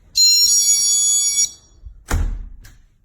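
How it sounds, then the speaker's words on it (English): A GE personal security window and door alarm sounds its chime, a single bright sustained electronic tone lasting over a second, followed by a dull thump like a door moving, close and clear with no voices. "And that's just the chime."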